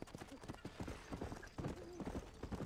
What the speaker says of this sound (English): Get the fuck on the goddamn horse